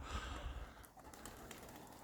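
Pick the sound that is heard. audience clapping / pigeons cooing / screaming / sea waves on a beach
pigeons cooing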